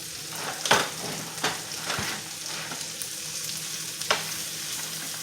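Lamb sizzles in a hot pan just after being flipped, a steady crackling fry broken by a few sharp clinks and scrapes of a utensil, close and fairly loud with no voices.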